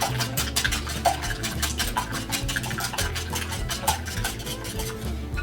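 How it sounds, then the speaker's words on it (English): Eggs whipped by hand in a bowl make a fast, steady run of close clicking strokes that keeps an even rhythm throughout, with no other sound. "I'm just going to start by whipping my eggs a little bit."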